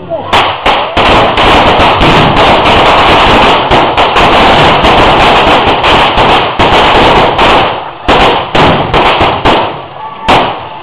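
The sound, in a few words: guns firing at will in celebration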